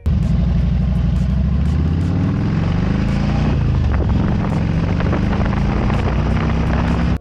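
A loud, steady Harley-Davidson motorcycle engine rumble runs throughout, deep and throaty, with a constant idle-like drone and no pauses.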